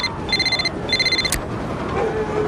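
A telephone rings twice in a PS4 video game, each ring a bright electronic trill in a short burst. A sharp click follows, and faint background noise carries on after it.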